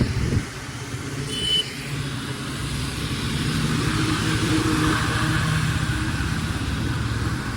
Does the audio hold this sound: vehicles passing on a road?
yes